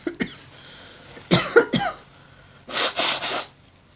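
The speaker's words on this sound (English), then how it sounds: "I've got a sneeze now." A person sneezes: a sharp burst around the middle, then a louder run of two or three close explosive bursts near the end, close and loud, with a faint catch of breath at the start.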